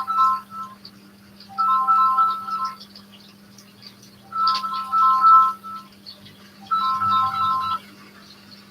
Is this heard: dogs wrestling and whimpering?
no